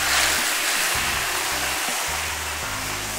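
Pickled chilies, pickled ginger and vegetables hit hot rapeseed oil and lard in a Sichuan kitchen wok, giving a loud, steady sizzling hiss throughout, with low thumps from the cooking.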